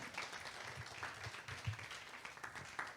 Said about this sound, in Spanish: ¿Cuánto le pueden dar un aplauso a Jesús ahí?